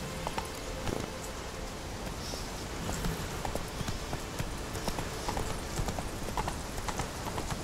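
Roach the horse's hooves clip-clop steadily across the ground in The Witcher 3, a continuous even trot over a constant ambient game background, moderately loud with no talking.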